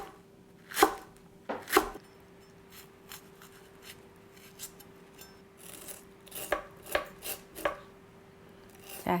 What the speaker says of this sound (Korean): 근데 이거는 오이 크기만큼 같이 오이하고 같은 길이로 썰어도 돼요.